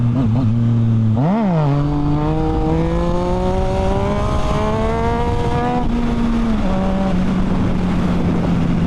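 A 2014 Yamaha FZ-09 motorcycle accelerating hard: a loud, close engine whine climbs steadily in pitch, drops briefly at a gear change, then climbs again and levels off into a steady drone, with no voices.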